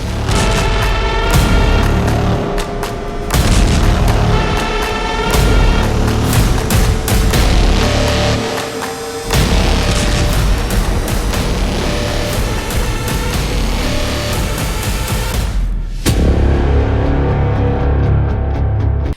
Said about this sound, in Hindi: गाजा में मंगलवार सुबह हुए धमाके की गूंज सुनिए।